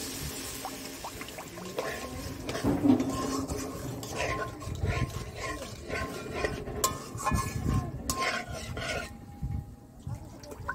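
Water poured into a pan of Rupa patia fish curry masala, followed by continuous scraping and rubbing of a spoon stirring against the pan, close and busy with a bubbling, gritty texture.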